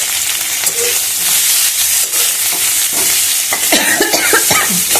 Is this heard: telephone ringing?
no